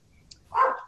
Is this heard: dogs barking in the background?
yes